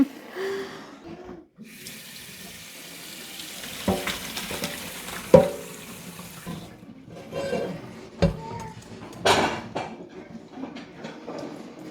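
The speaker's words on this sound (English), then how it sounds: "Probably took about 7 minutes, so I'm gonna drain them." Cooked whole wheat sourdough pasta drained at a sink, with gushing, splashing water rising and falling over several seconds, close and fairly loud.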